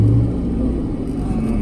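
A car engine rumbling and accelerating briefly during a driving lesson on a street, loud and close, with no voices.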